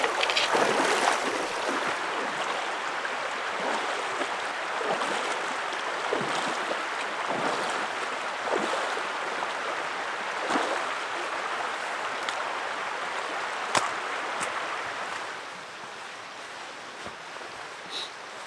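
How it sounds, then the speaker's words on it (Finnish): Someone wades on foot across a cold river in Norway's Reisadalen valley, producing continuous splashing and sloshing water with rushing current, close and steady before quieting toward the end, with no talking. "Sepä olikin raikas joen ylitys."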